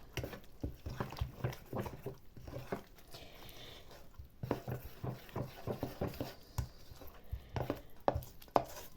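Chebureki dough of flour and sparkling water, made without milk or alcohol, being stirred in a bowl. Irregular, fast bursts of close tapping and slapping come and go, with brief pauses between them.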